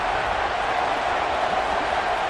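Stadium crowd noise during a video game American football match: a steady, dense roar of many voices, loud and unbroken throughout, with no distinct cheers or commentary standing out.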